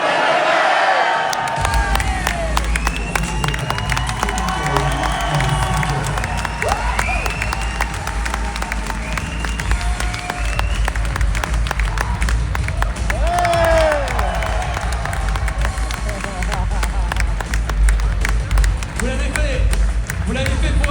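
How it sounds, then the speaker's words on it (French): A large crowd of spectators at the Enduropale du Touquet beach motorcycle race screams, cheers and applauds in a loud, continuous roar, with whistles and shouts rising above it. "Vous allez hurler maintenant."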